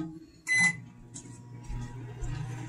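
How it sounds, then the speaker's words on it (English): A microwave oven hums steadily with a low drone, after a short, sharp beep near the start. "I'm going to pop them into the microwave for 1 minute."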